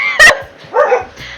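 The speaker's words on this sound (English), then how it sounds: "Excuse my barking dogs, I'm so sorry." Household dogs barking indoors: two loud, sharp barks about half a second apart, the second a bit longer, with quiet room noise between.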